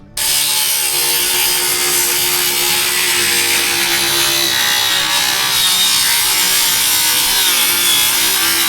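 A DeWalt battery-powered circular saw cuts through a piece of wood with a loud, sustained, rasping whine. It runs close and continuous for nearly the whole stretch, with no talking.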